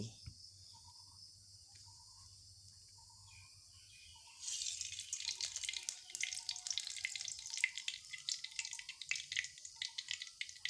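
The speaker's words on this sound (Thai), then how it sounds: "เรามาเริ่มลงมือทอดกันเลย" Egg-dipped khanom khiang is lowered into hot oil and sizzles loudly and continuously from about four seconds on, following a quiet stretch with faint chirping.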